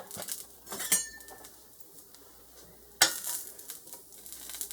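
A tablespoon of butter melting with onions in a pan for ground beef stroganoff, giving a soft steady sizzle punctuated by a few clinks and scrapes of a utensil against the pan, no talk.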